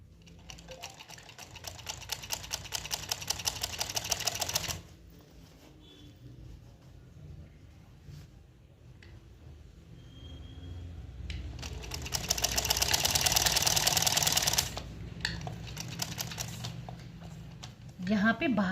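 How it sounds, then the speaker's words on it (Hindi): Sewing machine stitching over an existing seam while attaching a zip to a pair of pants, running in two loud bursts separated by quieter handling and faint movement, with a brief restart at the end. "सिलाई के ऊपर ही सिलाई लगानी है।"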